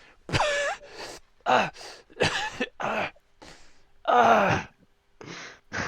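A person imitates harsh coughing and gasping in a series of short, loud bursts with pauses between them, like choking after a strong drink.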